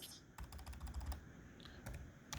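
Rapid clicking keystrokes on a computer keyboard as a name is typed into a form field, close and steady over a constant background hum, with no voices.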